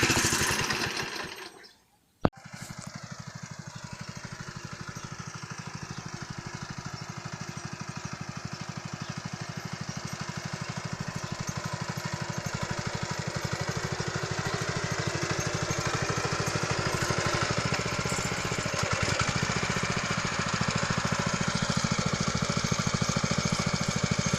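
A Forte walk-behind tractor engine runs steadily and loudly while hilling potatoes, a constant mechanical drone that starts abruptly after a short quiet gap and continues unbroken to the end.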